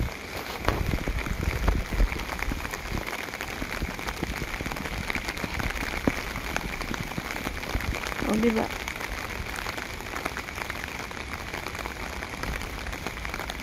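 Steady rain patters on the ground outdoors in cold, wet UK weather, a continuous hiss of drops throughout, with someone speaking briefly partway through.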